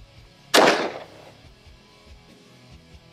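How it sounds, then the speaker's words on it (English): A .44 Magnum fires once at homemade Level IIIA soft body armor. The single loud, sharp report is close and fades quickly into quiet outdoor background, with a faint onset of another sound at the very end. "we'll see what the 44 mag does"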